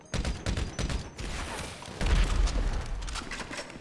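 A laser gun being fired in GTA 5 Online: a rapid run of loud, crackling shots with booming blasts, in quick bursts that keep going without a pause.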